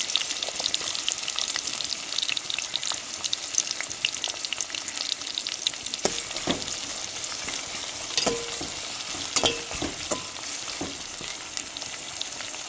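Green chilies, garlic and onion sautéing for a dried fish curry give a steady close sizzle of frying, broken by sharper scrapes and clinks from stirring in the second half.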